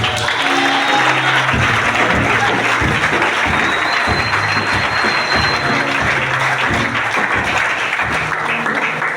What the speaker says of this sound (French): Je voudrais qu'on acclame le Seigneur